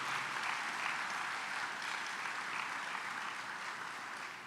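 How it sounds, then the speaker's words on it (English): Steady, dense applause from a large audience at an anniversary awards luncheon, sustained at an even level for several seconds with no voices standing out. "So please give yourself a major applause for that work and that recognition."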